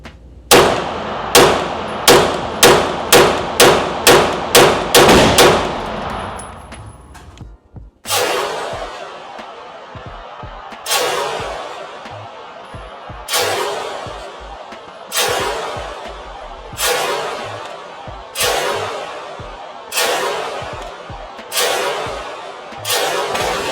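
A Staccato HD P4 steel-frame pistol fires repeatedly, first a fast string of about nine sharp, loud cracks in quick succession, then slower, evenly spaced single shots, each ringing out with a clanging decay.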